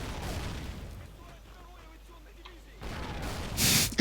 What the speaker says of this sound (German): Einfach alles ist am explodieren.